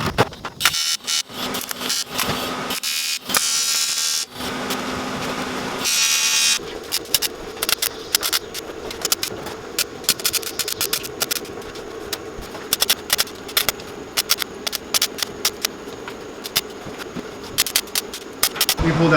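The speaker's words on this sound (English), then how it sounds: "We just have to tack it on one corner just so that it doesn't move on us" Tack welding a fuel cell into place on one corner in an AE86 build, with bursts of harsh crackling buzz broken by short pauses, then a steady run of sputtering, rapid crackle at close range.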